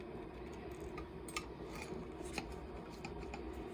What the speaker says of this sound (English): So let's cut into this for Mr. James.